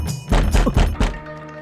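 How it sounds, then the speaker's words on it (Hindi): Knocking on a wooden door in a dubbed Hindi action film scene, a few heavy thuds in a quick uneven series, loud and close, with no talk. "पिताजी दरवाजा क्यों खटखटा रहे?"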